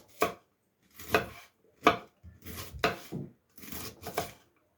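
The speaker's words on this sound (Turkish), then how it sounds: "Hemen mor lahanamızı doğrayalım. Çok ince ince doğrayalım canlar." Knife chopping red cabbage on a board, six separate bursts of quick, crisp cuts with short pauses between them, close by and with no talking.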